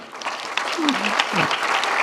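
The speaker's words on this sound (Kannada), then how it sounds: "ನಮಗೂ ವಿದ್ಯಾರ್ಥಿಗಳಿಗೂ ಒಂದು ಚಪ್ಪಾಳೆ ಅವರಿಗೆ ಕೊಡಿ" An audience at a Kannada literary association event claps for the speaker and students, a dense, steady burst of applause with a voice speaking over it.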